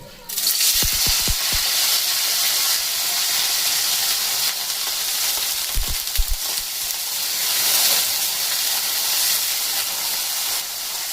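Pieces of bitter gourd frying in hot oil for a winter-vegetable shukto, a loud, steady hiss and sizzle close by, broken by a few dull knocks of the spatula near the start and midway, with no talk.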